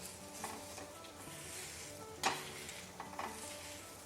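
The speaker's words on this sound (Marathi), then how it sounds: "थोडंसं तेल टाकून घेतलं आणि याला पण छान परतून घेणार आहे" Onion sautéing in a little oil in a pan for village-style chicken rassa, a steady soft sizzle with stirring scrapes and one sharp utensil knock midway, no talking.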